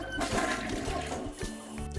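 A toilet flushes with a rushing, gurgling surge of water, close and fairly loud, with no voices.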